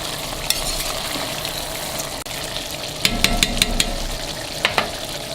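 Peppers and garlic being stirred into lamb and rice plov frying in oil, with a steady sizzle throughout and a run of sharp utensil scrapes and clinks against the pot near the end.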